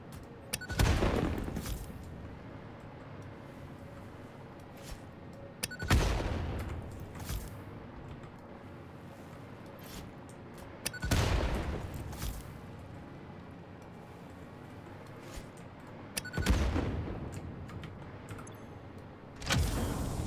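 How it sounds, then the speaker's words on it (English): Explosions in the game Satisfactory go off in heavy, booming bursts roughly every five seconds, each loud blast decaying into rumble between them. "Multiple explosions."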